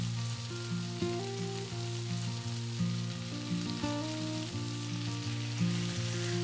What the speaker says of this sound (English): let's go ahead and get our onions in so they can start to cook a little bit